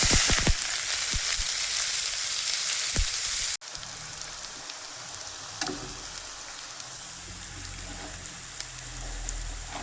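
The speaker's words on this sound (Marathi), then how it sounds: "चला आता कांदा टाकून घेते" Chopped onion sizzling in hot oil in a pan for a spicy bitter gourd curry, a loud steady hiss that drops abruptly partway through to a quieter, continuing sizzle with small crackles and pops.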